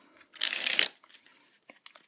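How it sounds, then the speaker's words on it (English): A deck of playing cards is given a quick overhand shuffle up close, a short papery burst of sliding cards followed by a few faint handling rustles. "we'll shuffle the cards like this."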